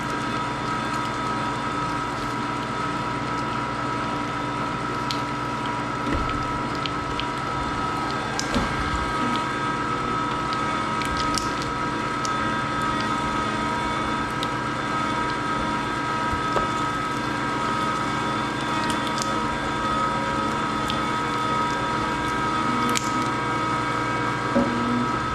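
A meat grinder runs its first grind of meat, a steady droning motor hum with a constant whine, with occasional faint clicks and knocks and no talk.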